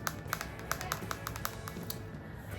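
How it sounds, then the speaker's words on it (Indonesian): Light plastic clicks and taps as a clear case is pried off an iPhone 12 mini, a quick irregular series of close, crisp snaps over a faint steady background hiss. "aku sekarang akan buka ya untuk casingnya dia."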